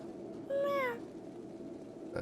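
A single clear cat meow in Honkai: Star Rail, one short rising-then-falling call standing alone over a soft background hum.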